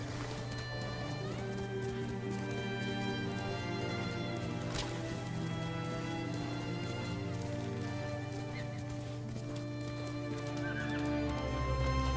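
A horse in the Ghost of Tsushima video game, with a neigh and soft hoof clip-clops heard faintly beneath a constant dense game soundtrack and ambience.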